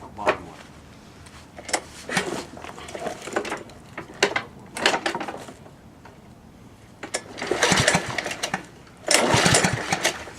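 A Cub Cadet lawn mower engine is being started with repeated short bursts of cranking and sputtering. The bursts grow louder and longer toward the end, close by with no talking.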